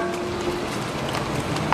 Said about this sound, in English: it's kind of drizzling